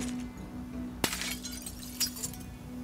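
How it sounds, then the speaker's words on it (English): One sharp crack of window glass breaking in the Project Zomboid video game, followed by lighter tinkling and clinking of shards as broken glass is knocked out of a window, all fairly quiet. "Let's remove the broken glass from these three windows."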